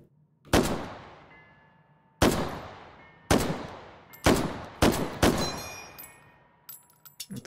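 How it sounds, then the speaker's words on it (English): An M1 Garand rifle in the VR shooting game H3VR fires six loud, close shots at uneven intervals, each with a sharp crack and a decaying ring, and the last is followed by a brief metallic ping. "With the Garand ping."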